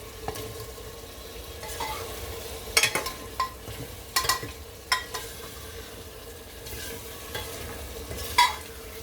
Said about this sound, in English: I'm stirring this.